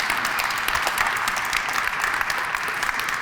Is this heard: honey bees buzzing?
no